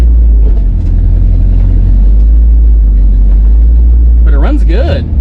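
Engine of a 1966 Ford Thunderbird revived after sitting for years, running with a heavy steady rumble close by, and a brief rising sound near the end.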